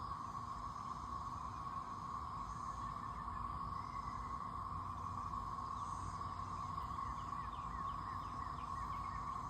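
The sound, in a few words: cicada swarm buzzing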